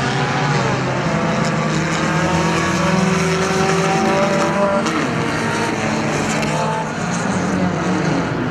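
Mini stock race cars roar around Perris Auto Speedway in a main event, engine whine rising and falling as cars run side by side, a continuous loud pack of engines with a commentator talking over it.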